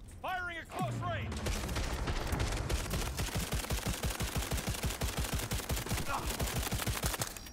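Cyberpunk 2077 gunfire: sustained rapid automatic fire in an even, pounding rhythm after a brief swooping electronic sound, close and loud, with a short exclamation from a voice near the end.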